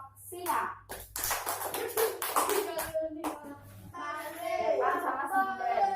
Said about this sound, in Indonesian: Tepuk tangan untuk kelompok singa.